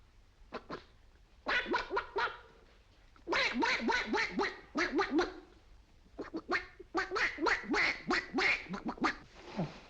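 A man imitates a duck with a run of nasal, raspy quacks, delivered in short bursts with brief pauses between them, close and clear.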